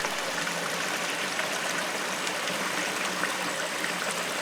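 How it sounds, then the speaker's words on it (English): Water runs steadily into a holy well in Welsh woodland, fed by a diverted supply entering through the ground, giving a constant close stream-like rush and trickle with no talk. "These days, the now diverted water supply enters through the ground here."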